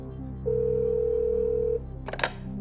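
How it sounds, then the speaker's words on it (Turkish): A phone rings on the Turkish quiz show Kim Milyoner Olmak İster, one steady electronic ringing tone lasting over a second, followed by a short clatter as the call is picked up. "Çalıyor Mustafa Akova'nın telefonu"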